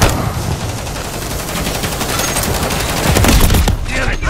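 Dense, loud automatic gunfire pours in continuously in Call of Duty Modern Warfare III multiplayer, rounds striking near the player without pause.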